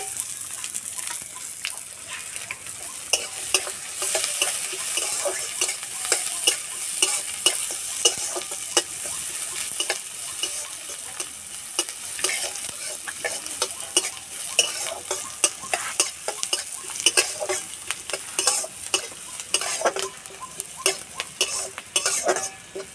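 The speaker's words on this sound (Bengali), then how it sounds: "আমি তো একসঙ্গে খুব ভালো করে ভেজে নেব" Chopped garlic, ginger and onion with cumin, coriander and fennel seeds frying in a pan, a steady close sizzle broken by frequent scraping stirs of a utensil throughout.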